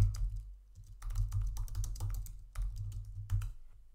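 Someone types a commit message on a computer keyboard, producing soft, rapid key clicks in quick bursts with short pauses, heard close over a low background hum.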